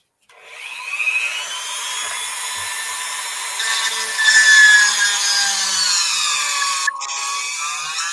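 A Dremel rotary tool grinds on an action figure being customized, a high whining, rasping buzz that starts abruptly and runs loud and continuous at close range, its pitch wavering as pressure changes, with no talking.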